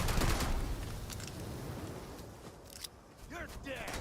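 Gunfire rattles in a firefight in the video game Starfield, a loud burst at first that thins into scattered shots over dense game noise while a player talks.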